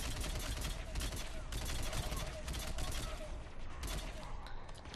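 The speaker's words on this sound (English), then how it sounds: "Now there's an asshole up there shooting at me." Enemy gunfire in the video game Mass Effect 3 multiplayer: dense, continuous rapid shooting that stays loud and steady throughout, with no clear gaps between the bursts.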